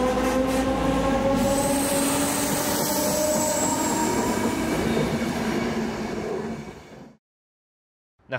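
An S45 suburban train leaving Gersthof station in Vienna onto an elevated line, rolling loud and close with a steady rumble and high wheel squeal for about seven seconds before cutting to silence.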